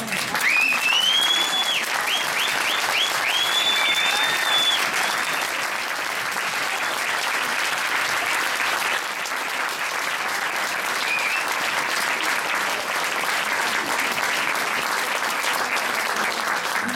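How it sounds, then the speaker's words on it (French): Sustained audience applause fills a debate hall after a film screening, a dense, steady wash of many hands clapping at close range, with a few whoops and whistles rising over it early on and no speech. "Puisqu'on en est à applaudir avant une prochaine question"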